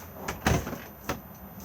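Entrance door of an Adria Alpina Missouri 613 UC caravan opening and shutting, with a soft thud, a short rattle and a second lighter knock close by, no talking.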